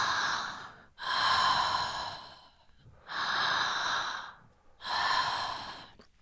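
Circular connected breathing through the mouth: three long, loud, breathy cycles flowing one into the next with barely a pause, close up and without speech.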